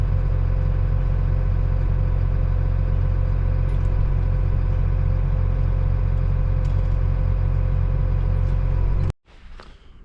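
Tractor engine running in a farm setting, a loud, close, steady low idle that cuts off abruptly near the end, leaving near-silence.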